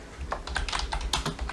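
A prompt is typed on a computer keyboard into Google Gemini: a quick, close run of about a dozen crisp key clicks in an irregular rhythm, with no speech.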